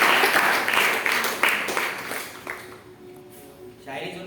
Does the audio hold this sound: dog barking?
no